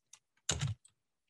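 Several quick keystrokes on a computer keyboard as a web address is entered, a short burst of clustered clicks between a few isolated taps, close and fairly quiet.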